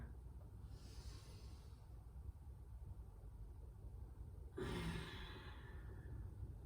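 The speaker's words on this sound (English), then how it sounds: "Deep breath in. And a full breath out." A soft inhale comes first, then a long, deep exhale from a yoga breathing practice, close to the microphone, with no talking.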